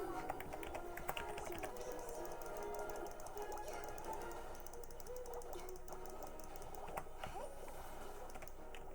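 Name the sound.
computer keyboard typing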